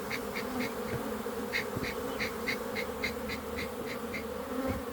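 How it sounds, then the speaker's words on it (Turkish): Steady buzzing of many honeybees at hives, close and continuous, with intermittent higher-pitched whines as individual insects fly past. "Evet, hep kemerli arılar maşallah."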